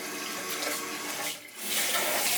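Water runs steadily from a tap for a rinse after a foot mask, a close, continuous splashing hiss that briefly dips before surging back, with no talking.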